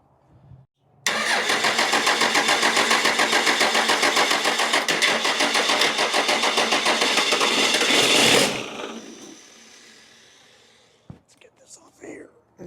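A car with a rebuilt 47RH automatic transmission and a roughly 650-horsepower engine cranks, then fires and holds a loud steady idle for several seconds before shutting off, with a few quiet sounds and faint talk afterward.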